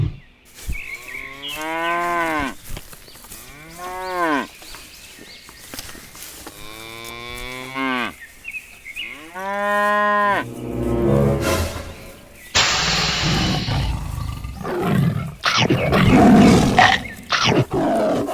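Cattle on a dairy farm moo in a series of long, loud, close bellowing calls, several in a row with short pauses between, followed by rougher, noisier roaring and scuffling toward the end.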